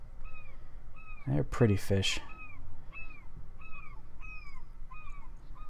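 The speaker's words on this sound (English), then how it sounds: "The seagulls are a little bit obnoxious." Seagulls in the fishing game Fishing Planet, on a Michigan lighthouse map, give repeated short descending cries at a steady pace through the whole stretch, moderately loud, with a brief burst of someone talking over them early on.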